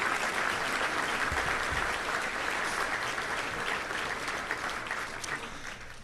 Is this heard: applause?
yes